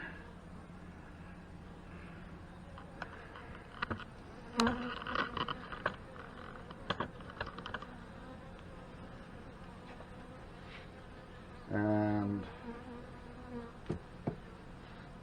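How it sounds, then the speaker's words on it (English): Steady honey bee buzzing hums throughout during a hive inspection, with scattered clicks and a brief louder burst near the end, no clear talk. "we have bees in the center, so they haven't totally moved up into the honey super yet"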